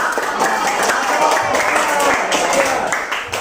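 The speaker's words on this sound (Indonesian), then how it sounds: "Tim Gacor, tepuk tangan untuk tim Gacor." A classroom group gives team Gacor a round of applause, steady dense clapping that lasts throughout with voices mixed in.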